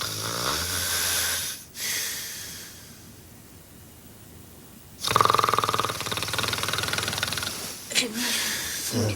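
A person snoring in long, loud, raspy breaths, close by, with a few short gaps between them and no talk over it.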